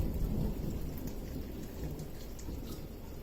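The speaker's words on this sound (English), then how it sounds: "big thunderstorm" A heavy thunderstorm with rain, a dense, steady roar of rainfall drumming on surfaces and low, rumbling thunder underneath, with no voices.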